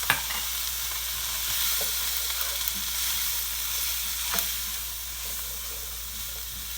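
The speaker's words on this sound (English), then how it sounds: "We're going to saute this until it's nice and fragrant." Vegetables, cilantro and a spice mixture of garam masala and curry powder sauté in a pot for a lentil stew, giving a steady close sizzle and hiss with occasional scraping stirs and no talking.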